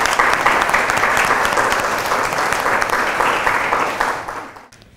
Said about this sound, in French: Lala Aïcha Sarr, 5e M1A, sous vos applaudissements, s'il vous plaît